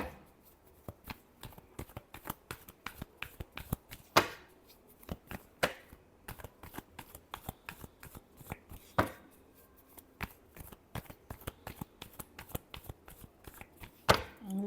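Tarot cards are shuffled by hand in a long run of crisp riffling flicks and soft slaps, with sharper snaps now and then, close and clear with no talk.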